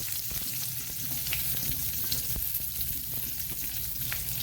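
Onion frying in oil with mustard seeds and curry leaves on a low flame, a steady close sizzle with faint crackles and pops throughout, no voices.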